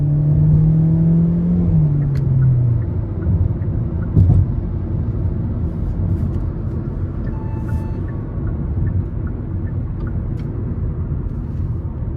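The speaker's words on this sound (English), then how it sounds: "the higher you get in the RPMs, this does tend to start pulling pretty well" A 2024 Hyundai Elantra SEL's 2.0-litre naturally aspirated four-cylinder pulls under acceleration from inside the cabin: a steady, loud low rumble with a tone sweeping through the opening seconds, then sustained road and engine drone.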